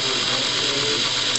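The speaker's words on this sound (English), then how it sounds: "then we'll turn the motor back on and check it" A Garmin autopilot servo motor runs during an adjustment, giving a steady, close, high-pitched mechanical whir with a faint ratcheting texture and no pauses or voices.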